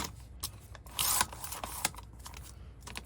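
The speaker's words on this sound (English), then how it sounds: "So I'm just going to cut this little edge off here" Scissors cut the edge off a piece of recycled cardboard packaging close up, giving a series of crisp snips and rasping scrapes with one louder, longer cut in the middle. No one speaks.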